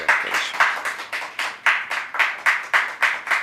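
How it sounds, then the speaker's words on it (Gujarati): An audience at a Gujarati literary event claps together in a strong, regular rhythm to welcome speakers onto the stage, each burst evenly spaced and fairly loud, with no talking over it. "આપણે ખૂબ તાળીથી એમને અભિવાદન કરીશું"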